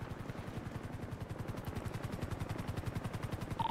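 Rapid, evenly spaced bursts of gunfire in GTA roleplay rattle on continuously, sounding muffled and fairly distant.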